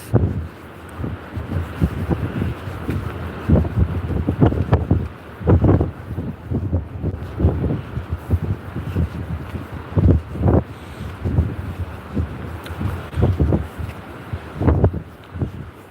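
Gusty wind blowing across the microphone on a cliff promenade, a continuous low rumble with repeated buffeting surges, close and loud, with no talking.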